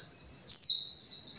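A single high, thin chirp with a sliding whistle from a white-eye songbird, close and clear, against a faint high steady tone.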